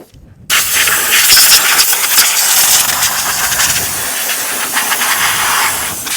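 Compressed air hisses in a loud, steady blast as it blows debris off the top of a GM Ecotec 2.2L engine in a Chevrolet Cobalt, starting after a short quiet moment and running continuously to the end.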